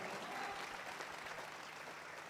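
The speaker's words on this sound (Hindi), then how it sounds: "ताली बजाकर थैंक्स करो खुदावंत का।" A church congregation at a sermon claps hands together in a dense, continuous burst of applause that stays steady and full from start to finish.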